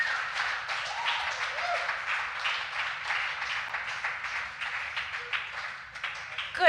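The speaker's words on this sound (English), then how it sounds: "Let's give them another hand of applause." Audience applause at a morning event held at a center, a dense sustained patter of many hands clapping at moderate level, with no talking until a brief louder burst at the end.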